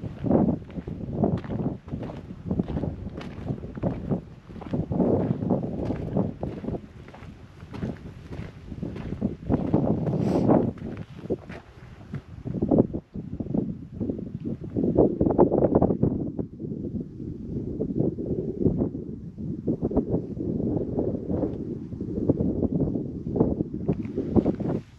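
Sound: wind at Salt Creek Wilderness, New Mexico

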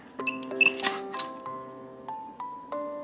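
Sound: handheld inkjet date printer printing on a medicine bottle cap

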